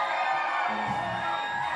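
Batavia Muckdogs fans at a baseball game doing their team cheer, a distant crowd of voices shouting and whooping together in a brief burst over steady ballpark ambience.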